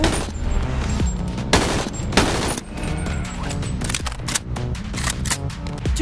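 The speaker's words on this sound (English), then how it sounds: "this AK feels hella slow" Rapid AK rifle gunfire in the VR game BONELAB, a dense run of loud, close shots in several bursts that fill the whole stretch with no talk.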